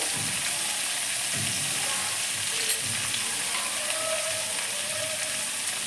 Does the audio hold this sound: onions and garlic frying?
yes